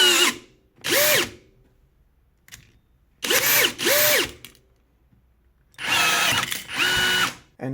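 A cordless rivet gun sets a 6.4 x 14 mm aluminium rivet in three loud bursts, each a pair of rising and falling motor whines with a ratcheting pull, separated by short silences.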